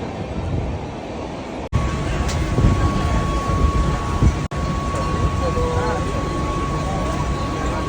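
A train passes nearby with a loud, steady rushing rumble and a sustained tonal whine running through it, while voices talk over the noise.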